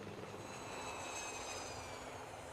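Jeremy the plane from Thomas and Friends gives a steady, droning airplane engine hum that holds an even level throughout, fairly faint and continuous with no voices over it.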